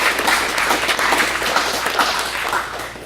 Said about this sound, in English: Let's have a round of applause for Sarah too.